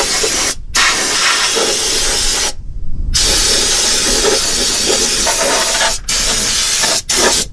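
Fluid Film lanolin rust coating is sprayed onto the frame of a 2020 Ford F-150 in loud, close aerosol hisses, with several bursts separated by brief pauses.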